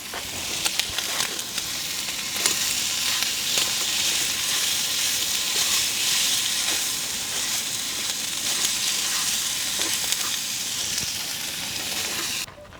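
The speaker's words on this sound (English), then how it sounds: "Oh, we're cooking the cheese accidentally." Cheese sizzles and fries in a pan at a truck campsite, a steady loud crackling hiss with occasional sharper pops and ticks running continuously until it cuts off at the end.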